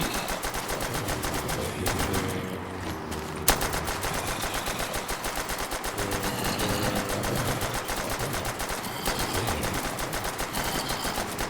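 Pistol fire in Black Ops 3 custom zombies with no fire restriction, a steady, rapid stream of shots that keeps going without a break over a busy game background.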